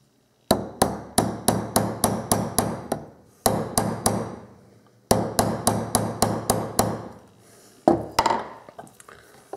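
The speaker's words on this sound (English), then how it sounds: "I'll have to pound it with my hammer." A hammer pounds a sight into a Glock 19 pistol slide with sharp, close metallic knocks, struck in quick bursts of several blows separated by short pauses.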